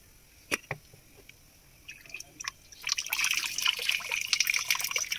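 Cooked rice is drained through a cloth, starting with a few scattered drips and then building into a steady close trickle of water falling onto a plate.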